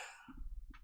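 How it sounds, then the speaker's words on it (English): A single person coughs nearby, a short harsh burst followed by a couple of rough throaty hacks, clear and close with no talking. "I got the cough."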